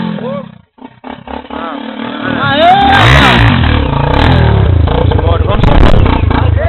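Dirt motorcycle engine revving hard on a rocky trail, a loud, rising roar that grows louder and then holds, close to the listener, with people shouting and talking over it.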